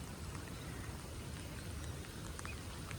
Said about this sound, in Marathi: दोन दिवस झालं मुसळधार पाऊस चालू आहे आणि पावसामुळं आपली जी भात शेती होती ती पूर्ण पाण्याखाली गेलेली आहे